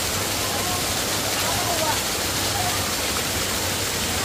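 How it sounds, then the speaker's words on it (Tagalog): Water from natural springs at the Bato Spring Resort in San Pablo, Laguna rushes in a constant, even wash of noise that fills the whole stretch without a break. It sits close and moderately loud. "Ang daming bukal, ang daming tubig."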